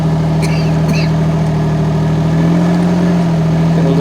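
A mini excavator's diesel engine idles steadily up close, then picks up slightly as it is given a little more revs, a constant loud drone throughout.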